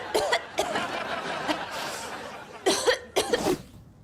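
A woman coughs in several rough bursts, with a pair of stronger, closer coughs near the end and muffled breathy sounds between them.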